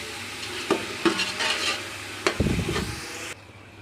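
A spoon stirs a mutton yakhni pulao mixture in a cooking pot, soft sizzling underneath with a few distinct scrapes and knocks against the pot, close and moderately quiet.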